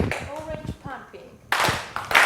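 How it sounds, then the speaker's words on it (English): Several people clap their hands together in a short burst, following spoken voices, with claps coming in quick rough groups. "And now together clap your hands."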